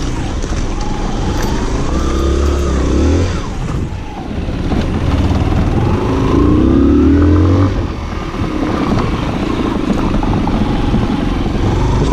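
Close by, an enduro motorcycle engine rises and falls as the bike works over a difficult rocky off-road trail, with the revving steady throughout and brief talking mixed in.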